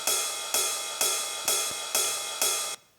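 A ride cymbal in a music production, struck six times at an even steady pace, each hit a bright shimmering wash that sustains and rings until the next, alone and loud before a quick cutoff.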